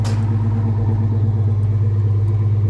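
A car engine idles steadily and smoothly at a slightly high, still-warming idle, its low rumble close and continuous with no talk over it.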